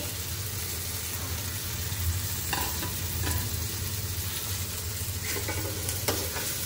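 Okra sizzles steadily in a hot pan with Indian spices, a continuous frying hiss with a few soft stirring scrapes, close and even throughout.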